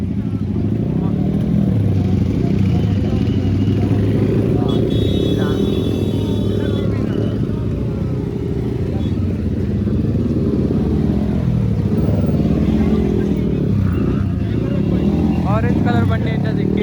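A Kawasaki Ninja 300 motorcycle engine rumbles steadily and loudly among other bikes at an outdoor Republic Day gathering at a university in Punjab, with people talking over the continuous engine noise.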